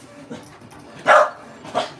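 Dogs bark twice indoors, one sharp bark and a second a moment later, moderately close, with quiet room noise between them.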